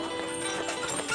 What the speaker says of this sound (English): We're going at the pace speed. We don't trot, or obviously we don't gallop with the horses.